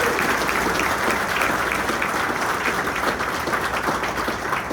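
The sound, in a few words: round of applause for veterans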